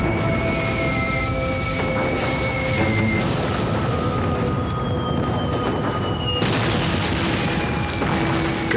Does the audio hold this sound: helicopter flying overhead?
no